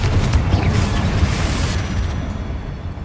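Confringo explosive spell bursting in the Hogwarts Legacy video game, a loud deep boom with a rolling rumble that carries on for about three seconds and fades slightly at the end.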